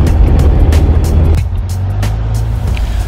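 A Porsche 912 drives along with a loud, close, steady low engine rumble and road noise, easing slightly halfway through, with no voices.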